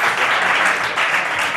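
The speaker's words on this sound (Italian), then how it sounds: "Ragazzi, un applauso." Studio audience applauding a youth football club coach and team official at a sports club presentation on an Italian local sports TV show, a dense, steady wash of clapping that fills the whole moment at close range.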